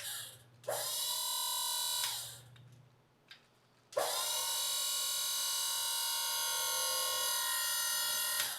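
Hydraulic pump for the tilting bed on a 1954 Ford F600 car hauler whines in two bursts, a brief one, a pause with a faint click, then a long sustained high electric motor whine that holds steady before stopping.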